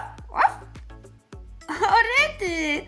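A voice imitates a dog's barking with two short playful woofs, spoken close and clear over cheerful game music in the Toca Boca Fluffy Friends game.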